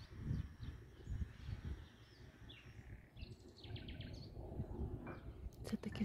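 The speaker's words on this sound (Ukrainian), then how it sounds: "Це такий соловейко" A nightingale's high, varied phrases ring out intermittently at a distance over low rumbling background noise on Torcello, Venice, with sharper trills near the end.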